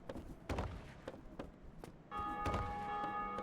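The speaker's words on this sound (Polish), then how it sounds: "Jakieś dzwony słychać." In the video game Dark Souls Remastered, church bells start ringing partway through, their sustained tone rising over soft thuds and footstep-like knocks in a quiet space.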